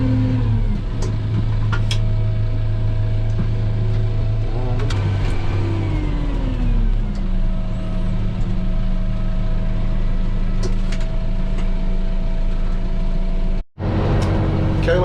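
A truck pulling a hay trailer on a farm: a loud, close engine drone that rises in pitch as it accelerates, then settles into a steady running rumble, with no talk.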